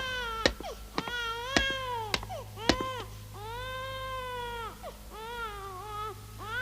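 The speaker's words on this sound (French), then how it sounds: "J'ai l'impression que ce sont les pleurs d'un bébé" A baby cries in a run of short, rising wails and whimpers, fairly faint and with no one talking over it.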